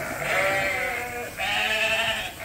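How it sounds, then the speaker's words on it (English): Sheep bleat inside a barn holding about 250 animals at feeding time: two long, wavering bleats follow one another, close and clear, with no talking. "And there is approximately 250 sheep in here."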